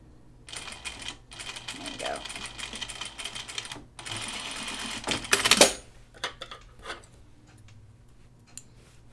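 Sewing machine stitching a button-up shirt with the bobbin removed, running in short bursts with brief pauses and a sharper clatter near the middle, with some talk around it.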